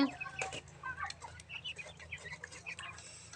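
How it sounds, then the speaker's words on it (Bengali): Eight quail in a cage give soft, quiet clucks and brief chirps over a low steady hum. "এখানে আছে আটটা কোয়েল পাখি"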